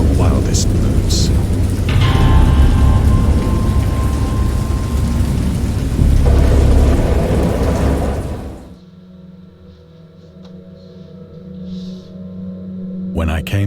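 A heavy thunderstorm with steady rain, used as an effect under a spoken narration, roars loudly and continuously for about eight seconds, then drops away to a faint low rumble with scattered quiet sounds.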